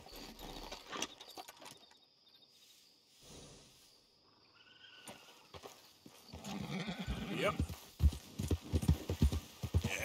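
Horse hooves clip-clop in Red Dead Redemption 2, faint and sparse at first, then a steady, fairly close trotting rhythm fills the second half over quiet outdoor ambience.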